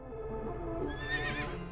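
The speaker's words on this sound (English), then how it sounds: "Outfitted with snakeskin saddle and tack, this tusk-toting horse stirs fear into the hearts of your enemies." A tusk-bearing horse mount with snakeskin saddle and tack gives a short, quiet whinny in the video game Assassin's Creed Origins, a single neigh rising briefly near the end.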